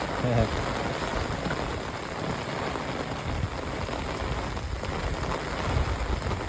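Heavy monsoon downpour in Botad village, a dense, steady roar of rain drumming on surfaces that holds at an even loudness throughout.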